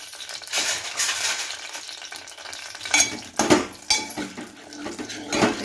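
Green chillies fry in hot oil in a pan for a village-style gongura pickle, with stirring scrapes, clinks of a utensil against the pan and a steady sizzle throughout, alone with no voices.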